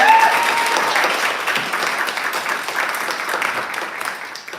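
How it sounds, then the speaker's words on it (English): An audience at a poetry reading event gives a full round of applause, loud and continuous, with many hands clapping together and slowly tapering toward the end. "Can we have a round of applause for us?"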